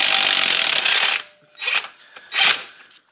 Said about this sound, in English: an impact with an extension makes getting on that real easy